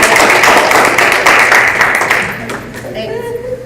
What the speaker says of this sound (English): Can we just give one round of applause for Deborah real quick?